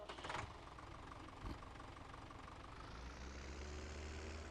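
Compact tractor engine idling in a farming video game, a low, steady rumble with faint knocking, running alone after a short clatter at the start.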